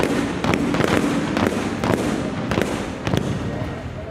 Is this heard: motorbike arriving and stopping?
no